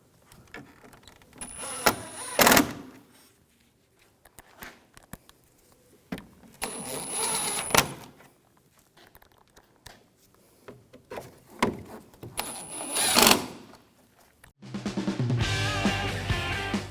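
Bumper bracket screws are snugged down on a 2011-2018 Volkswagen Jetta with a power driver, heard as three short whirring bursts separated by quieter pauses of handling noise, followed by a brighter clatter at the end.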